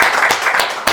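A room full of people at a Korean Buddhist Dharma service applauds, steady dense clapping with a few sharper claps standing out, loud and close.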